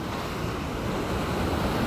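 Ocean waves at the shore, a steady broadband wash of surf mixed with wind noise on the microphone, continuous and fairly loud, with no voices.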